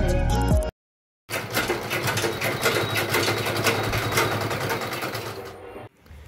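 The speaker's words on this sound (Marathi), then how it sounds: "तर आता मी शिलाई करत आहे" A home sewing machine stitches clothes with a rapid, steady mechanical whirr and needle chatter that starts after a brief pause, runs for several seconds close by, then stops.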